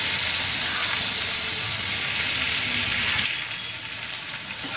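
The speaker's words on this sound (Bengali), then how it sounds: "টমেটোগুলো নিয়ে একটু ভাজা ভাজা হবে" Tomatoes fry in a pan with coconut, potatoes and onions, giving a close, dense sizzle that softens slightly near the end, with faint stirring and no talking.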